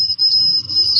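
Steady, high-pitched cricket trilling that runs continuously without a break, fairly loud and close, over a faint low rumble.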